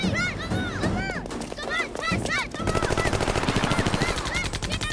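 Rapid gunfire erupts in a comedic film chase scene involving local robbers, a fast rhythmic burst of shots dominating the second half, preceded by shouting voices and a brief music-like sweep.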